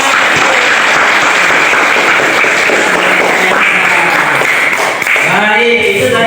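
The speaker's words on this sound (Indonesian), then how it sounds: "Iya, tepuk tangan." A class claps together in a room, dense steady applause lasting several seconds, close and fairly loud, with voices rising near the end.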